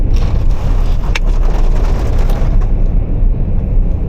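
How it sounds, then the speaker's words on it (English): Ice striking the roof of a truck on a frozen Alaskan road at about -30°C, a dense, loud, rattling patter that pounds continuously from up close, easing slightly near the end. "That noise is ice on the roof of the truck."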